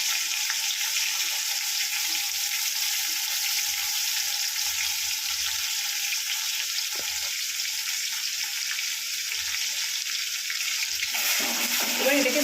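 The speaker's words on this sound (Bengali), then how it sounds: "এবার এটাকে ভালো করে নেড়ে চেড়ে ভেজে নিতে হবে।" Ginger, garlic and onion paste sizzles loudly in hot oil, a steady close hiss with occasional scrapes from stirring running unbroken throughout.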